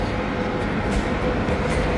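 A metro train in Lusail rumbles steadily nearby, a continuous low roar of wheels and carriage noise with no break and no voices.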